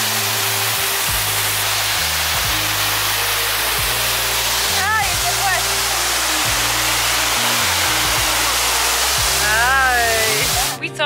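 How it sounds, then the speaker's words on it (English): A waterfall on the Côte d'Azur coast roars as a loud, continuous broadband rush close by, with a few brief voices speaking over it. "Here we are at the waterfall."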